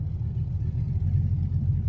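An LS-swapped Chevrolet Malibu with 3.73 gears, its engine giving a steady, deep low rumble under load while in gear, loud and close throughout with no talk.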